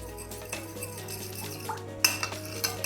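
Metal spoon stirring milk with lemon juice in a bowl, giving light repeated clinks and scrapes against the dish, close and fairly quiet, with a couple of sharper taps near the end.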